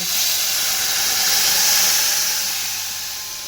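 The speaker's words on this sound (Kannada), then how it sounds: "ಇವಾಗ ಮಸಾಲೆ ಹಾಕ್ಕೊಂಬಿಡೋಣ" Masala hitting hot oil in a home kitchen gives a loud, continuous hiss that swells and then slowly eases over a few seconds, heard alone without talk.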